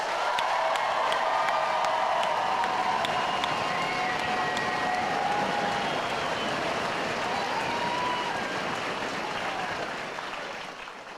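Families and friends applaud at a U.S. Army basic combat training graduation, producing a dense, steady wash of many hands clapping with some cheering underneath, sustained for about ten seconds before tapering off at the end.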